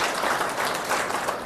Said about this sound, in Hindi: एक बार तो पहले उनके लिए ताली बजाओ।